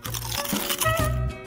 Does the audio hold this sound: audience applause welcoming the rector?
no